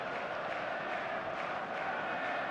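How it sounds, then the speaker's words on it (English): Expectant stadium crowd buzz before kickoff at a football match in the eFootball video game, a steady, dense murmur of many voices filling the whole stretch without a break or a single voice standing out. "There's a real expectant buzz in the stadium"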